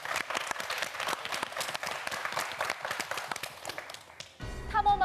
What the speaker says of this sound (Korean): 우리 네 학생 모두에게 다시 한번 큰 박수 보내주시기 바랍니다